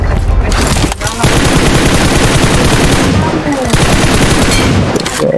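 Rapid automatic gunfire from a squad-based shooter video game, loud and dense bursts nearly continuous throughout, with brief gaps and faint voices of players underneath.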